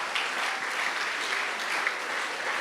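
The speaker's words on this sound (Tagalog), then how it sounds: "patuloy po tayong pumalakpak para sa ating Panginoon" A church congregation applauds steadily, a dense, even wash of many hands clapping together that holds at the same level throughout with no break.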